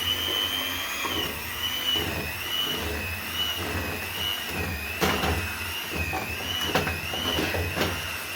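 Electric hand mixer whirring steadily through muffin batter at home, a continuous motor hum with a high whine that wavers slightly as the beaters move, with a few sharp clicks and knocks against the bowl.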